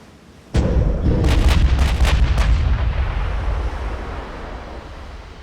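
Naval main gun firing in Ultimate Admiral: Dreadnoughts, one sudden heavy boom followed by a few sharp secondary cracks and a long rumbling decay that slowly fades.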